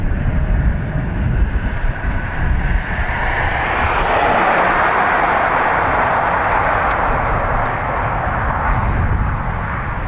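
An ATR turboprop airliner departs Dublin Airport, a loud broad roar that swells and holds steady as it passes close by, with no talk over it.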